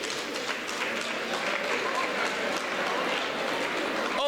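A college lecture audience claps steadily for several seconds during an inauguration lecture series, a dense even wash of applause with a murmur of crowd noise beneath.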